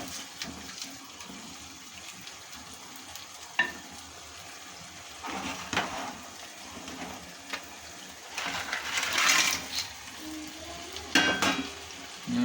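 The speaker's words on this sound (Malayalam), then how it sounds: "അപ്പോൾ നമുക്ക് നമ്മുടെ ഞണ്ടിട്ട് കൊടുക്കാൻ പറ്റും." Crab frying in a thick curry masala gravy in a nadan-style crab curry, heard as a steady sizzle with several louder stirring scrapes and splashes near the end, no talking.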